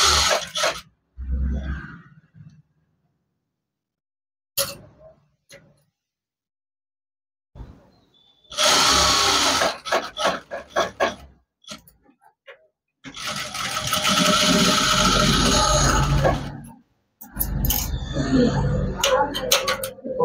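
A sewing machine stitching a folded blouse hem in several close bursts of whirring, separated by short pauses and quiet handling.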